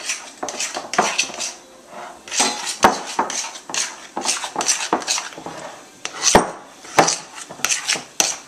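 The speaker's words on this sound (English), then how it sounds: "I've been stirring the mushroom in the skillet for a while" Mushroom stuffing being stirred in a skillet: loud, close scraping and clinking of a utensil against the pan in repeated rhythmic strokes, with no talking.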